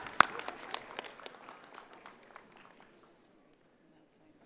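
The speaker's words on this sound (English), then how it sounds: "You just keep clapping, John." An audience applauds the 2023 Faculty of Law graduating class at the University of Calgary fall convocation. A sharp clap opens a scattered burst of hand claps that thins steadily and fades to near silence after about three seconds.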